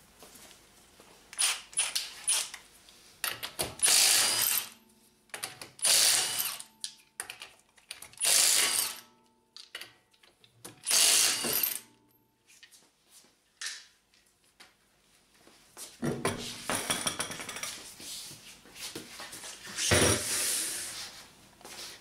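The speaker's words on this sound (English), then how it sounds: "I'm going to take my impact with a 19mm socket. I'm going to take the lug nuts off, get this wheel off." An impact wrench with a 19mm socket removing the lug nuts from a Honda Accord wheel. Repeated close, loud mechanical rattling bursts come in a stop-start rhythm, with a longer run near the end and no talking.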